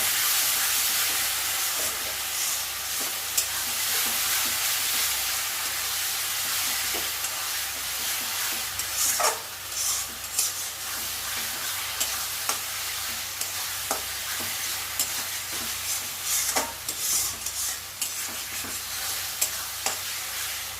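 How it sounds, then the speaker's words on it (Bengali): Bengali masala paste being stirred and fried in oil in a pan until the oil separates, a loud continuous sizzle and hiss with steady scraping strokes of the spoon, close and unbroken throughout, no voices. "এই মশলাটা ভালো করে কষাবো যতক্ষণ না মশলার গা দিয়ে তেল ছাড়ছে।"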